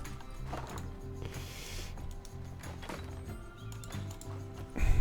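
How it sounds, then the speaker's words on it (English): A horse in the zoo-building game Planet Zoo clops along with rhythmic, repeating hoofbeats under game ambience, and a brief whinny rises through the steady background. "Alright, let's get this horse."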